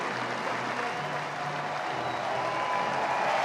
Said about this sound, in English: listen to this crowd as he steps back to the dugout